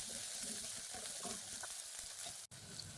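Chopped onion sautéing in a pan for a plain turmeric khichdi, a soft, even sizzle heard faintly and without interruption apart from one brief cut.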